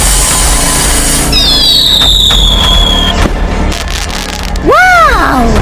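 Firecracker set off in a children's Spider-Man birthday skit, giving a loud sustained crackle with a descending whistle, then a sharp pop and rising squealing whoosh near the end, under steady noise.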